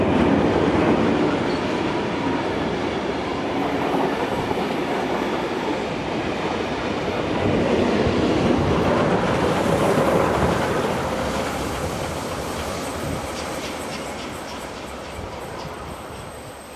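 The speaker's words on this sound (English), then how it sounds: "4501 leads the train again back to Sydney." Heritage passenger train led by steam locomotive 4501 rolling past in New South Wales, a steady loud rumble with wheel clatter on rail joints that swells near the middle and slowly fades as it moves away.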